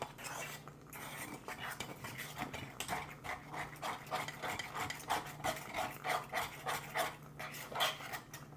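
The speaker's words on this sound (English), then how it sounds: "Now I'm just being overcautious on the scraping. If you guys don't like that noise, sorry." A metal utensil scrapes stuck food off a pan over a campfire in a repeated rhythmic rasping, fairly quiet and close, continuing through the whole stretch with no talk.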